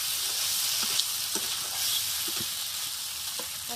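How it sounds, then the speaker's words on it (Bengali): Potatoes frying in spices being stirred in a pan: a continuous hissing sizzle with scattered soft scraping knocks from the stirring, close and fairly loud. "নাড়া দিই।"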